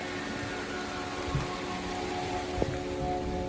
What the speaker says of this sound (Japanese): 残念ながら雨がバシバシで終了です。